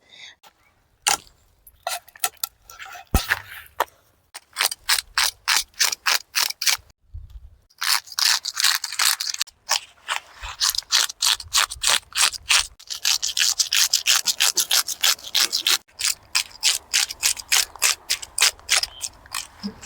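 Dishes and utensils get scrubbed by hand in quick, rhythmic rasping strokes, close and fairly loud, sometimes pausing briefly before falling into a fast, regular scouring beat.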